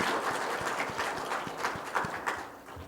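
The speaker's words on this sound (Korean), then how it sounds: "박수로 환영합니다." A church congregation at a Sunday worship service claps in welcome, a soft, fairly distant patter of hands with a few sharper claps standing out.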